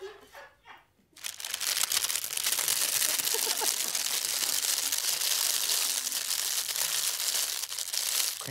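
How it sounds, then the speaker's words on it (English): Crinkle ribbon is squeezed and rustled close to the microphone in ASMR style, a dense, continuous crackling crinkle that starts after a brief quiet moment and runs steadily to the end. "Crinkle ribbon."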